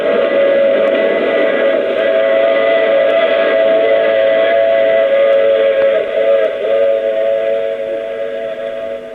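A steam train whistle serves as a sound effect in an old-time radio drama, blowing one long, loud, sustained chord-like tone that holds steady and then fades slightly.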